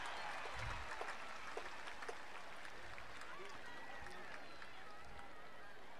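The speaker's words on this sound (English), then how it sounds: "how about a great round of applause for our World Grand Championship contenders tonight?" An arena crowd at the Tennessee Walking Horse World Grand Championship applauding the contenders, a faint, distant, even wash of clapping that lasts throughout.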